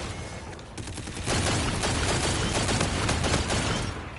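The legendary G-Rail gun in a video game fires a fast, steady stream of rapid crackling shots for a couple of seconds, rising out of a quieter hiss and then tapering off.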